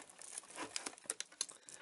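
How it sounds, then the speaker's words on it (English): Scissors snip and tear the plastic wrap on a DVD and Blu-ray box set, giving a close, quiet run of crinkles and sharp crackling ticks. "I got the scissors, and I'm going to try and get to the side right here."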